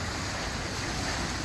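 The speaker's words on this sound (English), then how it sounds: "here you have cascading water feature" Cascading water feature at a children's wading pool in a green residential estate, giving a steady, continuous broadband rush of falling water, close and fairly loud, with no pauses and no voices.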